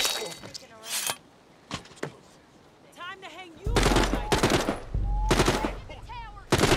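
Bursts of rapid gunfire, some sharp single shots and some longer automatic volleys, coming in several loud clusters with quiet gaps between them, while a voice and whistling-like tones are heard amid the shooting.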